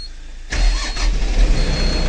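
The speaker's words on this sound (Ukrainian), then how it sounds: "Пуск двигуна" A DTZ mini tractor's diesel engine turns over and catches abruptly, then settles into a loud, steady low rumble close by.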